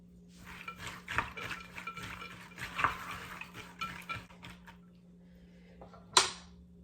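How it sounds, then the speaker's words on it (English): Salted bacon being stirred into baked beans, a spoon scraping and clinking against the pot in a string of scattered knocks, one sharp clank near the end, over a steady low hum. "I'm gonna mix it around in with the beans"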